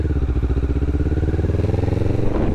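Used Kawasaki Ninja 650 parallel-twin on a test ride, a loud, close, steady pulsing engine drone with a rising note near the end.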